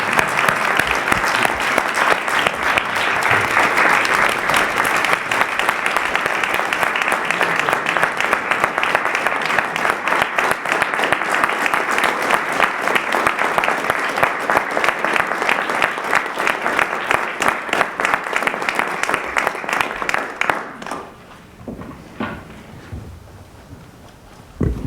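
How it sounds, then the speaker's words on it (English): A crowd at a school board inauguration gives sustained loud applause, dense and even for about twenty seconds before it quickly dies away into a quiet room. "I think we can give her a round of applause."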